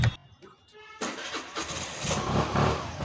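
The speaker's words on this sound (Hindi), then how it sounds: "गाड़ी स्टार्ट कर।" A vehicle engine cranks and catches, a brief starter whir followed by the motor firing into a loud, rough running roar that holds steady, with a voice speaking early on.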